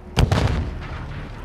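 Mortar strike explosions in the video game Call of Duty Warzone 2.0: two heavy booms land close together near the start, then a long rumbling decay fades out with no talking.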